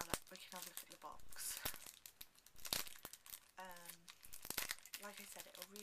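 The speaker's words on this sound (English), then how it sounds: "But I'll unwrap it now and we can have a look at the box." A perfume box for Avon's Spotlight by Courteney Cox is unwrapped, with crisp crinkling and tearing of the wrapping in bursts while someone talks over it.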